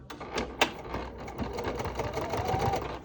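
A sewing machine top stitching a zipper onto a small fabric charm bag, its needle running in a fast continuous close chatter with a sharp click near the start, alone without talk.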